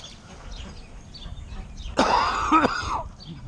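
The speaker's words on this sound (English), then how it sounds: "Anytime I cough up anything or blow my nose" A single harsh cough, close and abrupt, followed by a short second hack, rising out of a quiet room.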